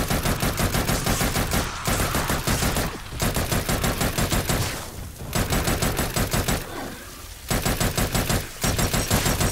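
Gunfire in the PSVR shooter Farpoint, loud, dense rapid automatic bursts separated by a few short pauses, with no talking.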